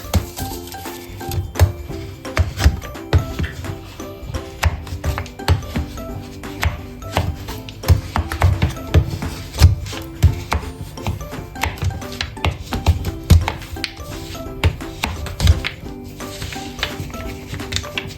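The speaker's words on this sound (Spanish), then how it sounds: "tengo 2 tabletas de chocolate, vamos a molirlo" Two chocolate bars being ground for a ganache, a close, busy run of rapid irregular chopping and crunching taps that continues for the whole stretch.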